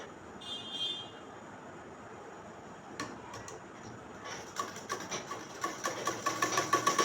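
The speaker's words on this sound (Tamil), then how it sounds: "ஒரிஜினல் கிளாத்துக்கு உள்பக்கமாக லைனிங் கிளாத்தை கொடுத்து ஹிப்பு பகுதியில் ஓரமாக தைக்கிறோம்" Sewing machine stitching lining cloth to the inside of a frock's original fabric along the hip edge, starting after quiet handling as a rapid, steadily accelerating run of mechanical ticks, near and moderately loud, with no talking.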